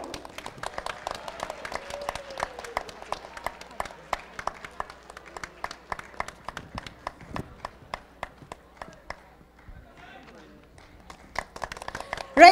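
Sparse, scattered hand claps from a modest audience welcoming a chief guest onto the stage at a Nepali community event in the USA; individual claps sound fairly faint and steady throughout, with a brief lull before a louder burst at the end.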